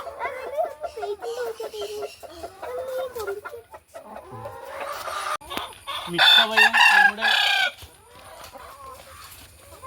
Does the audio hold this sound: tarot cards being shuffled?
no